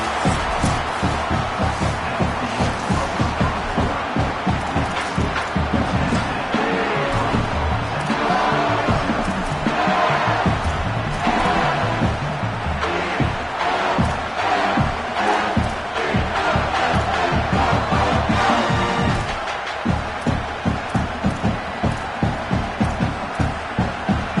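A football stadium crowd roars steadily, cheering and yelling in a loud, continuous wash that swells and surges for over twenty seconds, with faint commentary voices beneath.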